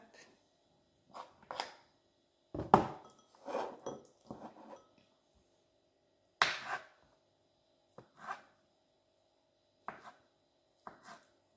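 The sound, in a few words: cutting boiled eggs with a knife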